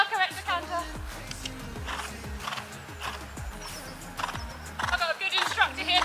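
A keen pony cantering in an arena, hooves thudding in a steady three-beat rhythm close by, with a rider and instructor talking over the footfalls.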